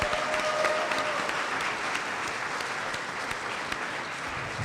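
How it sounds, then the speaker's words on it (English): A crowd applauds steadily, a dense wash of clapping that holds even throughout with no voices on top. "Give them a round of applause, please."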